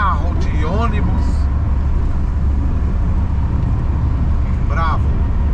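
Steady roar of heavy highway traffic with trucks, cars and buses rumbling past in rain, a constant low drone throughout and brief bits of speech over it.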